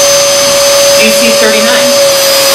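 Dyson DC23 vacuum cleaner running, exhaust air blowing out in a loud, steady whine with a sharp constant tone over a rushing hiss, close to the microphone.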